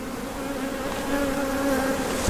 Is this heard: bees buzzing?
yes